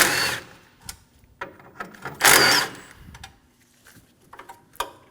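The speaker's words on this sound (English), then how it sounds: "Remove the 2 10mm bolts for the bracket." Two 10mm bolts coming out of a radiator support bracket on a 2008-2015 Scion xB: a loud burst of tool whirring and rattling, then scattered close clicks and ticks of metal handling.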